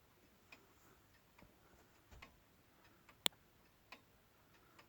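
A Howard Miller 612-485 wall clock with a coiled gong ticks softly and steadily on its own, each faint tick spaced evenly in a quiet room, with one sharper click standing out.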